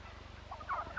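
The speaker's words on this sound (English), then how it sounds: "Farmer Brown also keeps a large flock of turkeys" A farm flock of turkeys gobbles in a brief, faint burst over a low, steady hum from an old recording.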